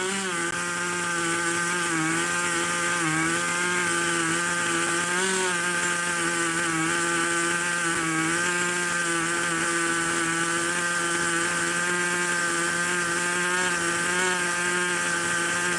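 A freshly built engine fired up for the first time settles into a steady, loud idle, its droning harmonic tone wavering slightly in pitch and running continuously without pause.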